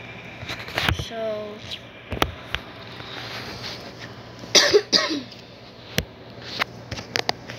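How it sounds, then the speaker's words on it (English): A few short, sharp coughs and throat sounds from a sick person near the microphone, scattered between quiet pauses with some faint background noise. "you heard that cough because I'm sick"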